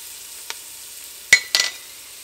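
Flour cooking in a pan for a meatball soup, with a quiet background followed by a few short, bright bursts of sizzling and scraping, the loudest two close together near the end.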